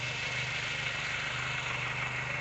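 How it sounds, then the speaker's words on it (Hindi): A tractor engine running steadily in a hillside wheat field, a constant mid-to-low rumble with broad noisy texture and no pauses, fairly close. "यहाँ पर हमारे खेत में ससुर जी भी ट्रैक्टर चला रहे हैं"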